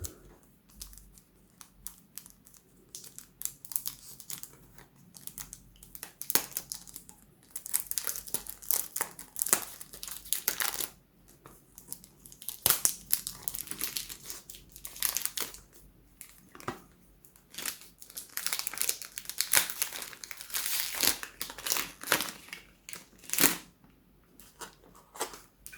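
A Guerlain Habit Rouge Eau de Toilette 100 ml box is opened, with close, irregular bursts of crinkling and rustling packaging, scraping and tearing-like crackles scattered throughout and no talk.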